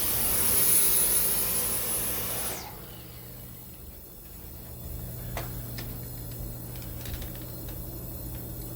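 A Dyson V10 cordless vacuum running on carpet gives a loud, steady, high whirring rush that cuts off abruptly after a couple of seconds, leaving a quiet room with faint ticks.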